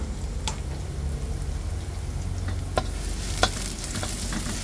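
Garlic sizzles in a hot pan while being stirred, giving a steady close frying crackle with a few sharp clicks from the utensil scraping the pan.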